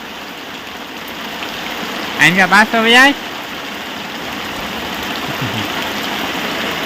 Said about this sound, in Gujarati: આવો વરસાદ ચાલુ છે અત્યારે ધીમા ધીમા